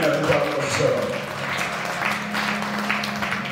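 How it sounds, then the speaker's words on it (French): A church congregation applauds and cheers in praise of the Lord, with clapping and raised voices mixing together over sustained music at a loud, steady level. "Est-ce que tu peux acclamer le Seigneur?"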